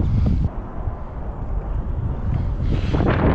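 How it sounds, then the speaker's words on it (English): Strong gusty wind buffets the microphone during kayak fishing on open water, a continuous roaring rush with heavier gusts at the start and end. "It's windier than hell."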